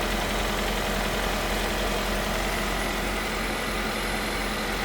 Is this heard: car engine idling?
yes